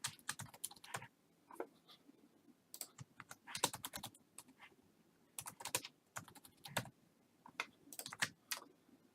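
Someone types on a computer keyboard, producing quiet, irregular bursts of clicking keystrokes separated by short pauses.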